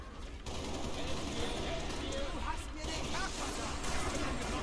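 Heavy, sustained gunfire fills a Halo Reach firefight around a dropship under attack, a steady rattling barrage heard at a moderate distance with voices talking over it.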